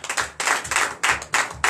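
A church congregation at a Sunday service claps in unison, sharp bursts at a steady rhythm of roughly three claps a second, loud and close with no talking over them.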